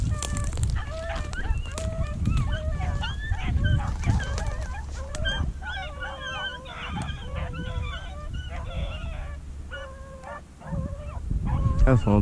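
Rabbit hunting dogs on the run give loud, repeated barking and baying, heard nearby outdoors alongside goose-like honking calls, with someone talking at times.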